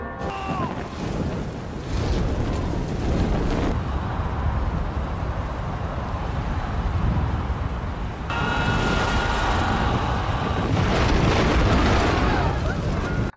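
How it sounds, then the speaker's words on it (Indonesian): Fire-bomb ships explode while ramming a fleet in a narrated Chinese historical battle, heard as sustained, loud, rumbling blasts and roaring fire that swell and surge repeatedly, with narration layered over them. "10 kapal bermuatan bom api berlayar dengan sangat cepat mendekat ke arah ribuan kapal Cao Cao dan meledak di garis depan."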